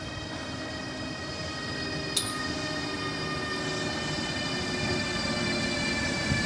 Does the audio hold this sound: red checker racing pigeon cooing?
no